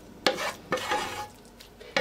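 Apple filling poured into a tart dish, three separate soft wet splats and scrapes spaced apart, close and fairly quiet.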